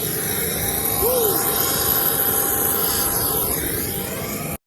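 Steady aircraft engine noise at an airport FBO, a continuous loud drone with a brief rising whine near the start, filling the whole clip without pause.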